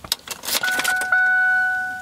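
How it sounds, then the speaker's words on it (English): Car key pulled from the ignition of a 1997 Lincoln Town Car, a few light metallic clicks and key jingles followed by a steady electronic key-reminder chime tone held alone inside the cabin. "let me get the key out"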